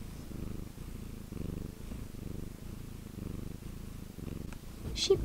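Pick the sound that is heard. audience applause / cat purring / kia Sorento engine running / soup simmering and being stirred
cat purring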